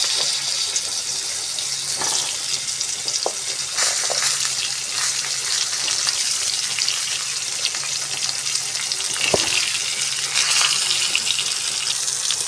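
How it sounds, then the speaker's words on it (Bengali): Pointed gourd pieces frying in oil with bay leaf and five-spice seeds, a steady loud sizzle with occasional stirring clicks and spoon taps throughout. "পটলগুলো ভেজে নিই।"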